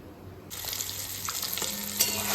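An egg dropped into hot oil bursts into a loud, steady close-up sizzle that continues evenly with faint crackles.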